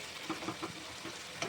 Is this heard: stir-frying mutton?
yes